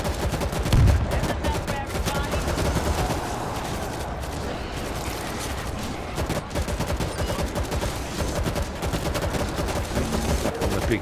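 A big mounted gun blazing away at zombie hordes in World War Z, a dense, continuous rattle of rapid automatic fire lasting throughout, loud and unbroken with a heavy thump near the start.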